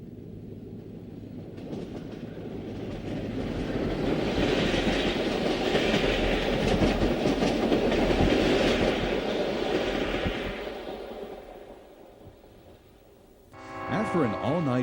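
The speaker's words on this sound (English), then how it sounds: "The Romulus Junction tower operator provides the stipulated roll-by inspection of the" The eastbound Wabash Railroad Cannonball passenger train rolling past Romulus Junction tower, a continuous rumbling roar with rhythmic wheel clatter that swells as the cars pass close, then fades away, with a narrator speaking over it.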